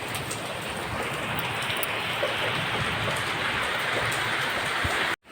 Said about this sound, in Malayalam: മഴയോട് മഴ